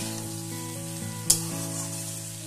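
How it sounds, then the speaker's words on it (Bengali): Ginger paste sizzles and fries steadily in a pan, a continuous close crackle with a low steady hum beneath and one brief sharp spike partway through, likely a stir or clink. "আদাটাকে নেড়ে চেড়ে নিয়ে 2 মিনিটের জন্য ভেজে নেব"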